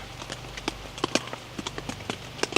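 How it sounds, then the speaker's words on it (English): Irregular, faint crunching footsteps on gravel around a campsite, scattered sharp steps at uneven intervals over a low steady background, with no voices. "I can hear footsteps on the gravel. It literally sounds like somebody's walking."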